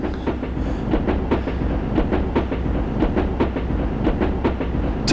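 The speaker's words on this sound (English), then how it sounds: "This is an express train." An express subway train runs at speed with a steady, loud rumble and a rhythmic clickety-clack of wheels over rail joints throughout, with no voices.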